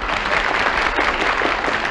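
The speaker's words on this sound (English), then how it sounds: "Thank you for that applause." A studio audience at a 1950s television variety show breaks into loud, sustained applause, a thick, even roar of clapping hands with no speech on top.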